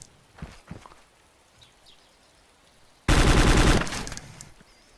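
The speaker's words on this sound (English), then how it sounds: "Did you shoot? I shot him." Gunfire in the video game DayZ, a sudden loud close burst of rapid shots lasting about a second and then trailing off, after a stretch of faint footsteps and quiet.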